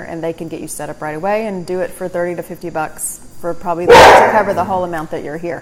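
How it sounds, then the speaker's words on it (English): A guard dog gives one sharp, loud bark partway through while a person keeps talking close to the microphone. "Pardon my guard dog."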